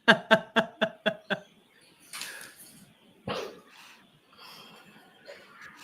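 A dog barks six times in quick, even succession, close and loud, followed by softer snuffling and rustling noises.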